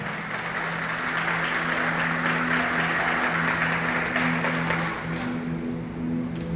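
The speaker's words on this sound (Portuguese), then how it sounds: "Você pode aplaudir a Ele nessa noite? Pode ser mais forte?" A church congregation applauds steadily at an evening service, a dense, continuous wash of clapping filling the room for several seconds, with a low sustained musical hum underneath.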